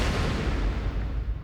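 A trailer-music whoosh hit lands as a broad, heavy boom with a rushing edge and then fades over about a second and a half, loud and alone.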